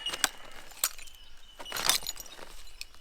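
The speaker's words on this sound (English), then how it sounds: "there's a lot of broken glass and stuff, which I can only take a little bit out of" Shards of broken glass clink faintly as they are gathered into a bag, a few sparse, brief chinks scattered over a quiet background with no talking.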